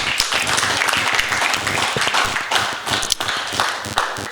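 A church congregation claps hands during a sermon, a loud, close, busy patter of many hands with some rhythmic accents and occasional thumps, continuing without pause and mixed with a few voices.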